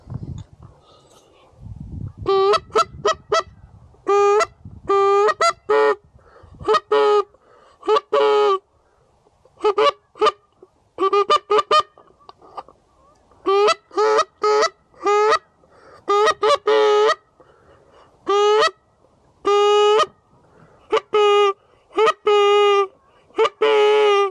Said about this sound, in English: Those are geese.